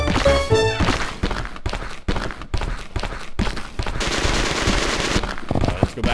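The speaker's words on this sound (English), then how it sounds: "You're gonna get me a damn machine gun." Rapid machine gun bursts fire in the video game Suicide Guy, a loud chain of clattering shots with short gaps between volleys, heard close and alone without talk.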